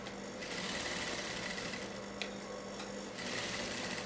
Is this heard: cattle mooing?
no